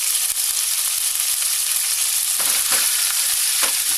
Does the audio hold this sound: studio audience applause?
no